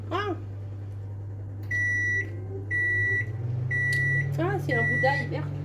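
A kitchen oven beeps insistently in repeated short electronic tones, several bursts in a row, over a steady low hum while a person talks and kitchen sounds carry on in the background.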